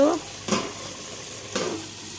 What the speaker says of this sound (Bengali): দুটো করলা ছিল তাই এই যে ভাজা করে নিচ্ছি